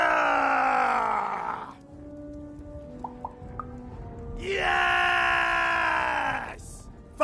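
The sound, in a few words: battle cry screaming in Lost in Random video game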